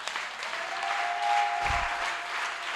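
A church congregation at a Sunday service claps together in a steady, close applause lasting a few seconds, with a low thump partway through.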